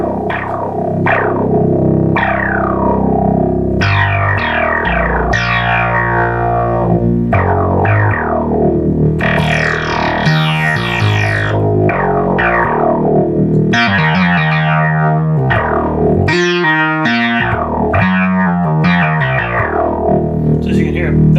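Restored Multimoog synthesizer played with its filter in full mode, producing a run of bright, buzzy, distorted notes and sweeping tones that shift pitch repeatedly across a sustained, loud passage, with no talking over it.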